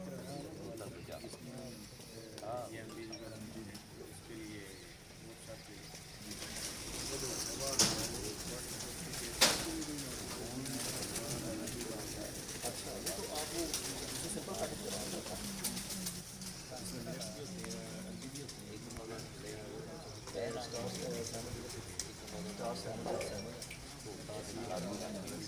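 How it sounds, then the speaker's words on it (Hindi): A pigeon lands at a pigeon-flying gathering and coos softly in the distance, with a sharp flutter or knock partway through, while people talk and chatter steadily nearby throughout. "ये दोस्तों चौथा कबूतर आया हुआ।"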